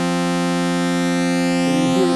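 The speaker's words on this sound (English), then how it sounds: "now I can feed in the second oscillator." An Elektron Analog Four MK2 analog synthesizer holds a steady, buzzy sustained tone with a second oscillator mixed in, rich and bright, shifting slightly in pitch near the end.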